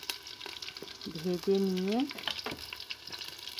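Bay leaves and white cumin sizzle in hot oil in a pan. The soft, crackling fry is heard up close and rises briefly as the spices are stirred, and a short whining tone cuts in partway through.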